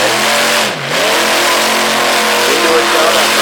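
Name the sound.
pulling truck engine revving and backfiring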